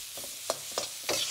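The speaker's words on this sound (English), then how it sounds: "Just love that sound of that sizzling wok" Chicken mince with Chinese sausage sizzling in a hot wok while being stirred for lettuce wraps, a steady close frying hiss with three or four scraping stir strokes.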